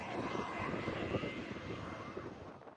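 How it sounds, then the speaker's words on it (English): Firefighting helicopters dumping water on a raging wildfire in Chile give a steady, loud rotor and engine roar that holds throughout without pause. "with helicopters dumping water to douse the raging flames"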